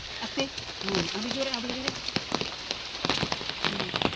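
Steady rain falls outdoors at a home in Odisha, a continuous hiss of drops on surfaces with scattered louder splatters, while voices talk over it throughout.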